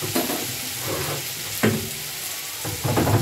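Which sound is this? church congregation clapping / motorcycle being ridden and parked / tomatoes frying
tomatoes frying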